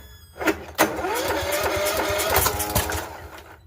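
A Cub Cadet LTX1045 riding mower with a 46-inch deck cranks on choke, with a couple of sharp catches before the engine fires and runs unevenly for a few seconds, close and loud, then fades.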